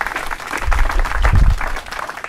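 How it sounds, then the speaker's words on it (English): A crowd applauds at an outdoor park dedication ceremony, a loud burst of dense clapping with low rumbling that swells and eases over a couple of seconds. "give them a round of applause"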